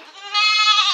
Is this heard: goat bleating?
yes